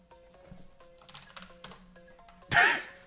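Keys clatter on a computer keyboard in quick irregular bursts under a faint steady hum, ending with a loud, close rustle or cough-like burst.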